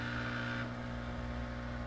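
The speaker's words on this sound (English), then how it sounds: "If you still have water in the tub, and then if your pump sounds like this" A faulty drain pump on a Samsung washing machine, with water still standing in the tub, runs as a faint, steady, low mechanical hum with a buzzy drone throughout.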